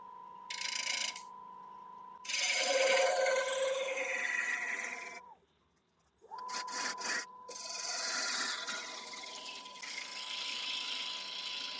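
Wood lathe turning an elm bowl as a tool removes the last material from the bottom, long scraping and rubbing passes with a steady motor whine, one short near-silent gap, no voices.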